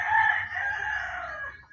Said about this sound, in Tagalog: Huwag niyong pansinin yung manok